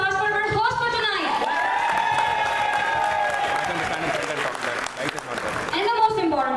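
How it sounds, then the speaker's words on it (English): Audience at a community event applauds and cheers for the evening's hosts, a steady loud wash of clapping with whoops over it, while music or voices carry through much of the stretch. "So can I hear a round of applause for our host for tonight?"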